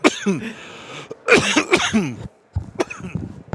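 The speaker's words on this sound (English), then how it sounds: "Excuse me, I got a cough." A person coughs a few times up close, short rough bursts separated by brief pauses.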